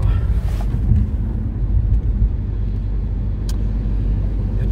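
Inside a moving car, the engine and road noise make a loud, steady low rumble throughout, with a brief higher hiss near the start and no voices.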